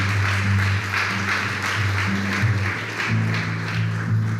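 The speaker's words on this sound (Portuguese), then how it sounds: "Então dá uma salva de palmas ao Senhor." A church congregation claps together for the Lord at a Bola de Neve service, a steady wash of hand claps blended with sustained keyboard or music tones throughout.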